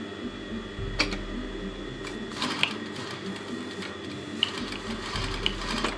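A sewing machine works on curtain fabric while pinch pleats are being made. Uneven runs of mechanical whirring and clacking are broken by sharp clicks and knocks at close range.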